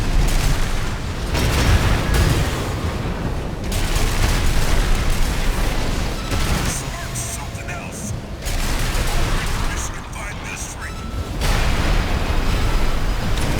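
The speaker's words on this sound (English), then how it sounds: "He uses a lot of bazooka shots, which are very, very annoying." Loud, dense booms and blasts from bazooka fire in the mech combat game Armored Core 6, heavy explosions in bursts separated by brief lulls.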